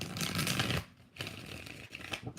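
A deck of tarot cards is shuffled in a few quick, riffling bursts separated by a short pause. The papery flutter is close and fairly soft, and no one speaks over it.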